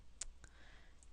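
A computer mouse gives two or three sharp, quiet clicks spaced a fraction of a second apart in an otherwise hushed room.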